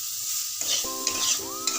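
Potatoes and spices sizzle in hot oil for Bengali torka while a spatula stirs them, giving a continuous close frying hiss with several scraping strokes against the pan.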